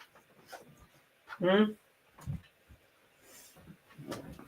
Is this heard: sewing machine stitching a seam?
no